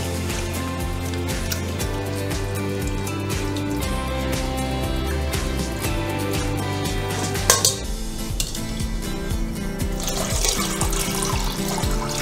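Wheat gluten dough is rinsed under a running kitchen tap, a steady close stream of water splashing into a sink with squishing handling and occasional clinks of a bowl.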